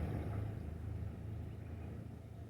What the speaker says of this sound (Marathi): कुठेतरी आजूबाजूच्या रहदारीचा,